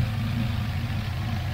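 A Chevrolet C10's six-cylinder engine idles steadily up close, a continuous low rumble with an even rhythm and no voices over it.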